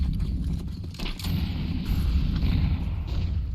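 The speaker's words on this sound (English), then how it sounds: "Oh, that nade. A lot of damage done to Meraki here." A grenade blasts in a shooter video game: a heavy, booming explosion with rumbling low-end debris, followed by mechanical clatter and continuing gunfire-like thuds, with no voices.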